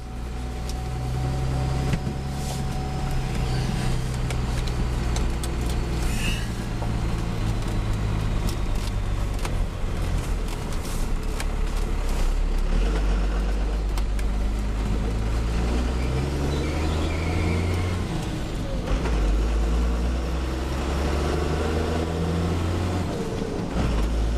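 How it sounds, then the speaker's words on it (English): A Chevrolet Silverado swapped to a Cummins diesel makes its first test drive, a steady, loud engine drone heard from inside the cab with the pitch shifting as it moves through gears, continuous throughout. "Alright, first test drive of the Silverado"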